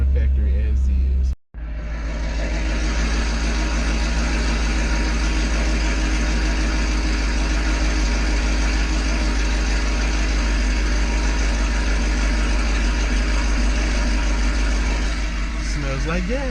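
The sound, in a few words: Chevrolet Camaro ZL1 engine idling to warm up oil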